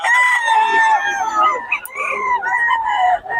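A young gamecock stag crows in one long, loud, close, wavering call that is clear and unbroken, with faint background murmur.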